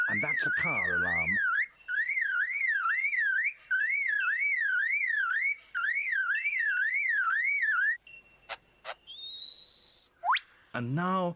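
A forest lyrebird mimics a car alarm with loud, close, cycling wailing tones repeated in several bursts, followed by scattered sharp clicks and chirps and a rising whistle.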